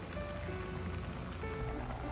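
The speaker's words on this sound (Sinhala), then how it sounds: "දැන් කව්පි වල වතුර මේ විදිහට උතුරනකොට අපි ඇරලා ටිකක් කවලම් කරලා" Kidney beans boil in water in a pot, giving a steady bubbling simmer with a few faint tonal whines over the top. The sound is close, continuous and fairly quiet.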